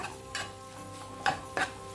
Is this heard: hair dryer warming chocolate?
no